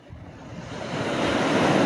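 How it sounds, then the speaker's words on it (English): Early-morning ocean waves wash steadily into Half Moon Bay harbor at Westport, Washington, a continuous broad rushing surf that swells louder over the moment, mixed with wind, no voices. "listening to the waves and watching the harbor seals play out in the water"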